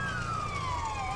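A police car siren in GTA V wails in a steady, slowly falling sweep above low engine rumble, continuous and fairly close.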